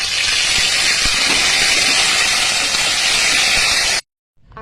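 Ginger paste hitting hot oil with spices (bay leaf, cumin, nigella) gives a loud, dense, continuous sizzle close by for about four seconds, then cuts off abruptly.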